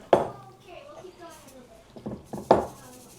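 Aglio e olio pasta with fried shallots is moved into a serving dish, giving two sharp clinks of utensil against dish, one at the start and one near the end, with soft scraping and faint talk in between.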